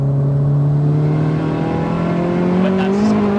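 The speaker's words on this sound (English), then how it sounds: "We've got turbo spooling up there." Built turbocharged Vauxhall Astra VXR of 533 bhp, heard from inside the cabin as the engine pulls hard: a loud, steady drone climbing in pitch, with a faint turbo whistle rising over it near the end. No one talks.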